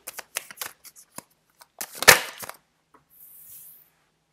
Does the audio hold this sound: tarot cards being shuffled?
yes